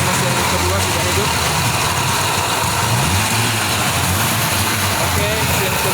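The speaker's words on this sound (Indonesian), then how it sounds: "Oke, mesin kedua ini sudah hidup." A conventional car engine used for tune-up practice idles steadily in a school workshop, a continuous close rumble that stays even throughout.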